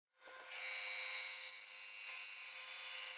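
A bandsaw slices bone slabs pushed through with a wood block for knife handles, a steady high-pitched whine that spins up quickly and then runs on, close and continuous.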